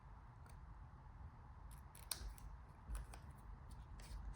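Scissors cut small paper scraps in a quiet room, making a few sharp, crisp snips spaced irregularly over a faint background.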